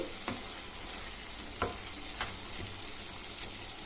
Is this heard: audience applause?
no